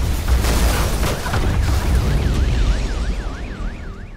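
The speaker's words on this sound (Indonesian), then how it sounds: "tiba-tiba terjadilah ledakan di bangunan itu" Explosion in an abandoned building in the 2018 film Believer, a heavy booming rumble that rolls on and fades, with a wavering siren-like tone rising behind it.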